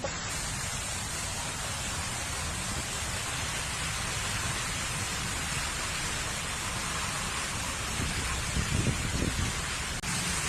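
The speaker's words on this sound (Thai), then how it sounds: "สวยมากเลยนะมันมีน้ำตกด้วยนะคะ" Continuous broadband rush of a forest waterfall in a natural setting after overnight rain, steady and unbroken throughout with a brief low thump near the end.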